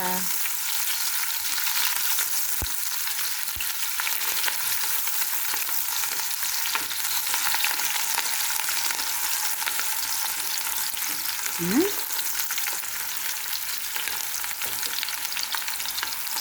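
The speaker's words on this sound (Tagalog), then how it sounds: "At iyan, nailagay na natin ang ating sibuyas at bawang. Isangkot na natin sila." Onion and garlic sautéing in hot oil for pancit, producing a loud, dense and steady sizzle with occasional light stirring clicks and one brief scrape, no talking.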